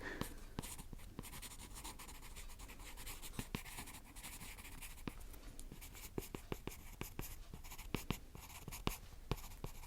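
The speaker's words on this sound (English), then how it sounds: "I'm just going to write down the behavioral notices that I've seen." A pencil writes on paper close up, scratching steadily with quick taps and strokes at an intimate ASMR volume, faint and quiet throughout.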